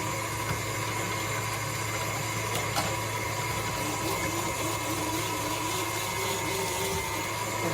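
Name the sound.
KitchenAid stand mixer running on speed 4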